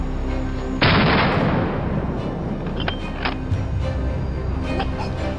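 A single sharp gunshot fired at wild boars during a hunt on a Texas cornfield, a loud broadband blast with a decaying boom, followed by quieter outdoor background and faint distant clicks.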